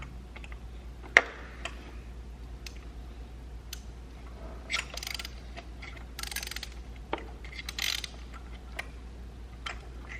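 A hand ratchet works loose a spark plug on a 10th-generation Honda Civic Si, sparse close clicks and metallic ticks scattered over a quiet background with faint handling noise.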